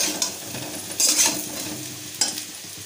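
Spice paste of ground cumin and coriander with turmeric being fried and stirred in a pan, with a soft sizzle under loud scraping stirs, two of them sharper and brighter.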